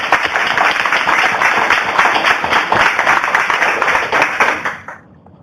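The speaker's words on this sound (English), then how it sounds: "I think we can give a round of applause to Lorena and the rest of the team." Audience giving a round of applause at the end of a climate adaptation community meeting, a loud, steady, dense clatter of many hands close up that fades out abruptly near the end.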